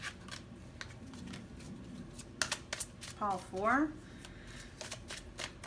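Tarot cards being shuffled and drawn during a reading, with several quick riffling and slapping bursts close by, interleaved with a person talking.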